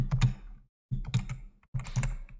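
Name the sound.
typing code on a computer keyboard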